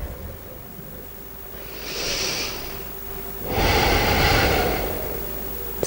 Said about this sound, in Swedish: Andas ut.